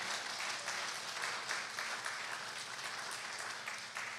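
A church congregation applauds in steady, sustained clapping that fills the room at an even level from start to finish.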